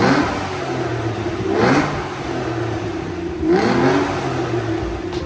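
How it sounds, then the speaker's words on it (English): Aston Martin 6-litre V12 exhaust at a classic car auction preview, two rising revs over a steady loud idle, each swelling and falling back, close and with no talk. "Just have a listen to the exhaust sounds on this."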